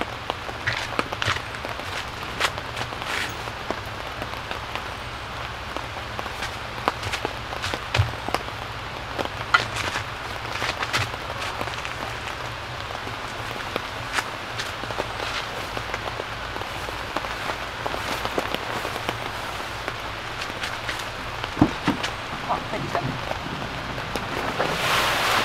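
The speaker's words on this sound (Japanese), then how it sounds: "急に土砂降り来た。" A sudden heavy downpour at a campsite roars as a dense, steady hiss of rain pounding surfaces, continuous and close, with occasional louder drips and wind gusts, no talking.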